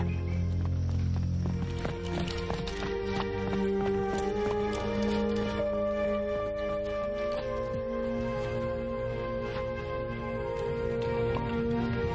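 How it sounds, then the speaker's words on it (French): Horse hooves clip-clopping steadily throughout, mixed with a sustained musical score that runs under the whole stretch, with no talking. "C'est le cheval de Coréon."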